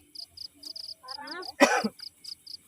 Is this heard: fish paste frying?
no